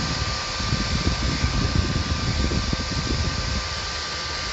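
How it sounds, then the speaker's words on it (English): A Pentium D 820 PC's CPU cooler fan roars loudly and steadily like a jet engine, a constant whooshing drone with a faint tonal whine, no voices. "a processor that runs so hot the CPU cooler fan sounds like a jet engine when you"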